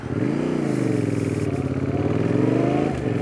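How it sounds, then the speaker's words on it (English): Fantic Caballero 700 retro scrambler with a Yamaha CP2 parallel twin, riding on the road: a steady, loud engine drone with a throbbing low rumble held throughout, alone with no talk. "I'm out today on the Fantic Caballero 700, a brilliant little retro scrambler type bike"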